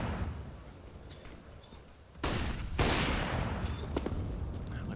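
Gunshots ring out in a CS:GO match, sharp cracks cutting through a busy background, with a couple of loud reports followed by sustained firing.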